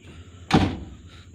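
Cabin door of a Komatsu PC500-10 excavator opening, a single sharp latch thunk followed by a short rattling swing, close and clear against a quiet background hum.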